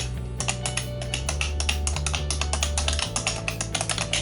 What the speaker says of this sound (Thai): ถ้าเกิดว่ากดแรงในทางนี้ครับ เวลาเราพิมพ์งานปกติ